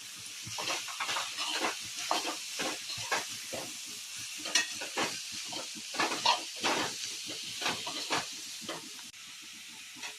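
Onions with a little salt sizzle and fry in a pan for kanda kachori filling, a steady close hiss broken by repeated stirring scrapes throughout, with no voices.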